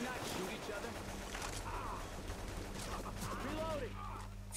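Rapid gunfire rattles in Left 4 Dead 2, bursts of shots sounding fairly faint under a busy mix of game noise, with voices talking over it.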